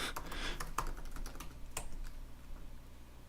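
Close, quiet typing on a computer keyboard, a quick run of key clicks that thins out and stops before the end.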